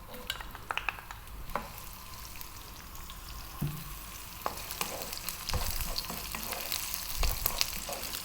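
Sliced onions sizzling in hot oil for a vegan eggplant curry, a quiet, crackling fry broken by sharp clinks and scrapes of stirring, no one talking.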